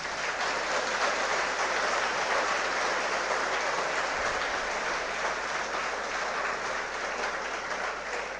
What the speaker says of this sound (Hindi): एक बार जोरदार तालियां गौरव सर के लिए